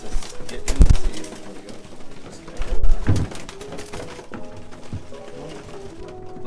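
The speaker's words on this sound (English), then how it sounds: "Feeding pigeons is not fun, by the way, because they like to get in the seeds." Pigeons coo around a seed feeder in a flock enclosure, low repeated throaty coos mixed with thumps and scuffling, fairly close and loud.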